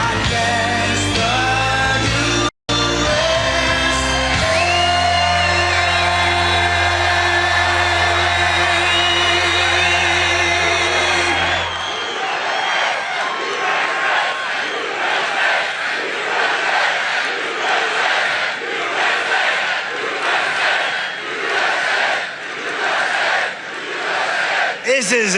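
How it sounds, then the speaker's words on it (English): A large political rally crowd in Butler cheers and shouts, first under loud music, then as a broad continuous roar of many voices with rhythmic chanting surges. "This is a big, big, beautiful crowd."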